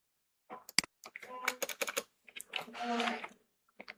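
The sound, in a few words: typing on a computer keyboard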